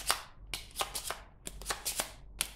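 Cards for the board game Dead of Winter being shuffled by hand, a close series of crisp riffling bursts and taps in an uneven rhythm, about eight quick flutters with brief pauses.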